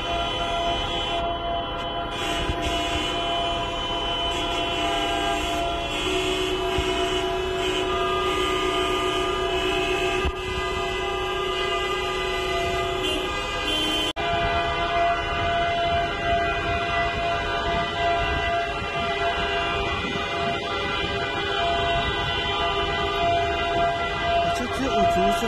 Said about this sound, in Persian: همونجا وای میسن و همه بوق میزنن